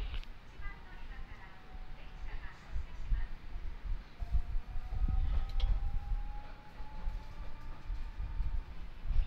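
A Nankai Koya Line local train on the Namba–Kongo route pulling away from a station, with a low rumbling rise of motor and wheel noise and a faint whining tone climbing in pitch, heard from inside the carriage.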